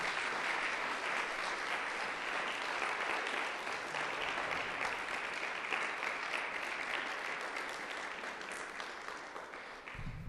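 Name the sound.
congregation applause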